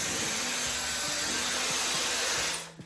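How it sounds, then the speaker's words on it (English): Dyson Airwrap hair dryer attachment running on its highest heat setting with the fan at its second level, giving a steady close airy whoosh that holds for almost three seconds and then cuts off sharply. "Okay, so I'm gonna start with the dryer attachment first."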